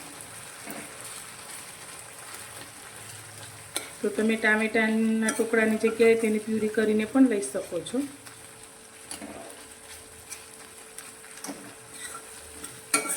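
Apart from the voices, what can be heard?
tomatoes cooking in a pan, pressed and stirred with a spoon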